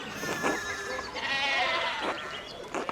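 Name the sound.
sheep bleating in the video game Pentiment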